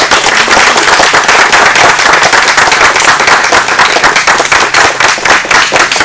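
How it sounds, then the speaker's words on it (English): Loud, dense applause from an audience at a competition show, continuous rapid clapping filling the whole stretch at close range, with no voices standing out. "A round of applause for Allen."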